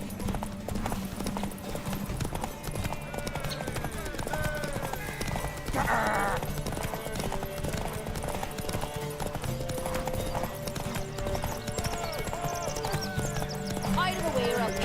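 Roach, a horse in The Witcher 3 video game, clip-clops in a steady, close hoofbeat rhythm throughout, with a brief whinny partway through, under game music and character dialogue.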